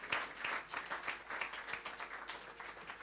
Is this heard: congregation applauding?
yes